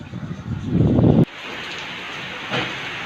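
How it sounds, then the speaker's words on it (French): Heavy thunderstorm rain falls around a cyclist outdoors: a loud, low buffeting rumble cuts off abruptly into a steady, broad hiss of downpour with a brief swell near the end. "Orage, grosse pluie."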